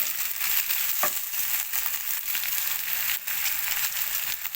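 Fish roasting dry in a pan with no ghee, a steady close sizzle and crackle filling the whole stretch with small pops along the way.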